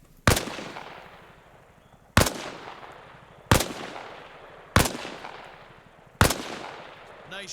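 Five loud, sharp gunshots fired one at a time at shooting-range targets in a video game, each crack trailing off into a short echo, spaced roughly a second or two apart with no talking.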